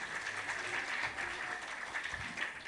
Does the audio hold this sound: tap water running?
no